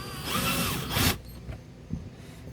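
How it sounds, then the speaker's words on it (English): A cordless power driver whirs briefly as it drives a screw into a Scotty GoPro camera mount, a loud close burst followed by quiet with a couple of faint clicks. "so I'm going to use my other power driver"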